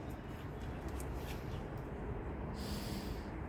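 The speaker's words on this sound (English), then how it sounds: "Excuse me as I sniff." A person sniffs deeply at a blooming hydrangea, a breathy airy snort heard up close over a steady background hiss.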